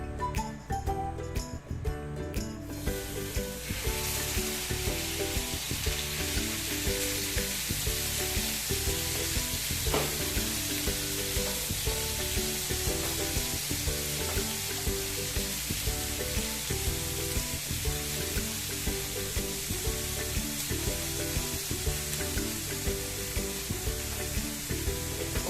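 Beef sears in oiled pan for beef stroganoff, a loud continuous sizzle and crackle that holds steady without pause and with no talk over it.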